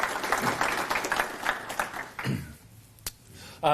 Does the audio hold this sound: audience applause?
yes